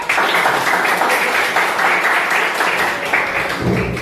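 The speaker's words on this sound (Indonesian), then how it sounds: "Tepuk tangan" Students in a college teaching-practice class give a loud, steady round of clapping that holds evenly for several seconds, with no voices on top.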